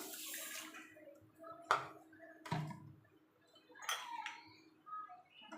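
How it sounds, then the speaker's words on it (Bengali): Half a bowl of water poured onto coarse-grained sugar in a bowl for syrup, brief splashy pours with scattered clinks of utensils, close and fairly quiet. "এবার দিয়ে দেবো হাফ বাটি জল"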